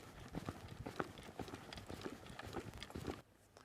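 A horse's hooves strike the ground in a steady, repeated three-beat canter as it moves off on the left lead, the thuds fairly close and clear over soft ambient noise, ending abruptly near the close.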